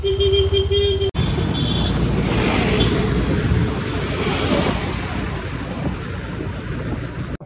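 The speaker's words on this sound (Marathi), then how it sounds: "Traffic traffic traffic traffic." Busy city road traffic with cars: a loud, steady roar of nearby engines and tyres that follows a brief tonal horn-like note at the start.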